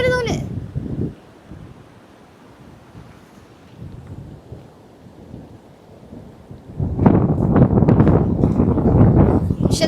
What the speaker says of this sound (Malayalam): പക്ഷെ നല്ല കാറ്റുണ്ടല്ലേ.